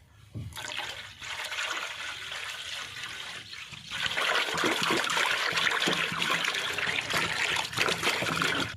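Water pours and splashes steadily into yogurt for buttermilk, growing louder and fuller partway through, with no voices.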